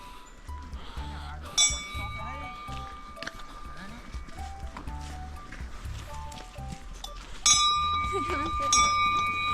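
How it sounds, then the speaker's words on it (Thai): A bear bell rings on a hiking trail in Kamikochi, giving bright metallic dings and clangs at intervals, with a stronger ring near the end. People talk and footsteps move through the outdoor scene. "เราเดินเข้ามาถึงจุดที่มีกระดิ่งกันหมีกระดิ่งสัน"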